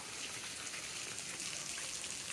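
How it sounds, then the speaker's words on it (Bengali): Steady rain falls over a village in a continuous, even hiss, dense and moderately loud throughout, with no voices. "আর ওয়েদারটাও আজকে খুব ভালো, সব জায়গায় বৃষ্টি।"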